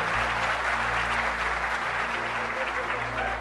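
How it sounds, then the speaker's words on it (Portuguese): An audience claps in a dense, sustained burst of applause over a low steady hum. "Aplaudir, aplaudir."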